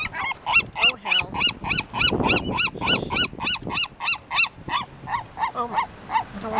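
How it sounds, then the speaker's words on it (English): Ravens and sea gulls crowd in close while being fed crackers, loud harsh calls repeating in a rapid, rhythmic series with raucous squawks overlapping in a busy flock chorus. "It's a big old raven party here."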